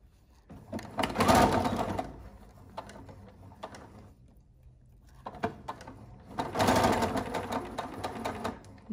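A sewing machine stitches a coat facing in two loud bursts of rapid whirring, around the 1–2 second and 6.5–8 second marks, with quieter handling and mechanical clicks in the pause between them.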